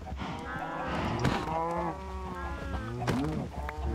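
A herd of cows in Minecraft moo repeatedly, several overlapping drawn-out calls near and far over a quiet background.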